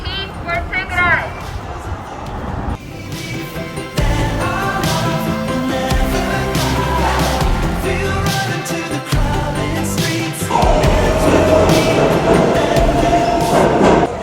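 A PATH train at the Oculus station in New York rumbles and clatters along, wheels squealing at times, with station announcements and voices over the loud, continuous rail noise.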